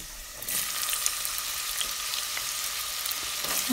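Garlic sizzles steadily in hot oil in a pan for a Sylheti pabda fish and tomato curry, making a continuous soft frying hiss with faint clicks, close and alone.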